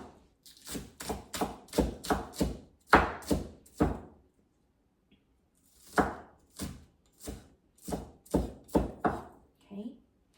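A knife chops green onions and ginger on a cutting board in steady bursts of crisp, close thunks, with a brief pause midway before the rhythmic chopping resumes.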